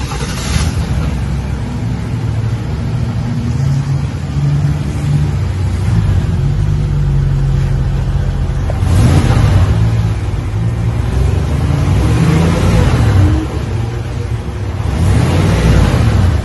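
A 2022 Chevrolet Silverado with its stock exhaust revs up in a steady, fairly subdued rumble, swelling in a few stronger pulls near the end, close by and continuous.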